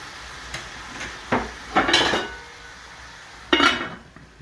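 Cookware clanks and clinks as a lid goes onto a pot of duck curry on the stove, a few separate close metallic knocks and scrapes with pauses between and no talk.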